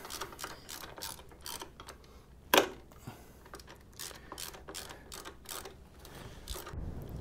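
Ratchet wrench clicking while snugging bolts on a Harley Sportster during charging system work, a steady run of quick mechanical ticks with one sharper metallic clank partway through, fairly close and moderate in level.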